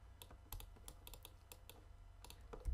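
Computer keyboard keys pressed in a quick, irregular string of crisp taps, some doubled, close and fairly quiet over a low steady hum, with no voice present.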